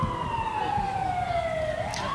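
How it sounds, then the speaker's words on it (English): A fire truck siren wails loudly and steadily as it drives past outside a campus protest encampment at night, with its pitch slowly falling then rising. "You're hearing sirens from a fire truck that's unrelated to this protest as it drives by."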